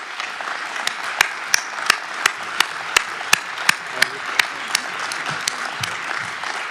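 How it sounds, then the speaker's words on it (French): Applause for outgoing council members rises at a municipal council session in Bry-sur-Marne, a soft bed of crowd clapping punctuated by loud, evenly spaced single claps from one nearby pair of hands, with no talking. "Messieurs, je vous demande s'il vous plaît de les applaudir"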